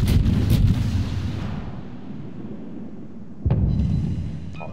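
Naval guns fire in the World of Warships video game, a heavy booming salvo at the start that rumbles and fades, then a second loud blast near the end with a lingering low roar.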